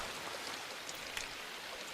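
Rain falling steadily onto sodden, muddy ground, a continuous wet hiss with scattered drops, heard alone at a low, even level.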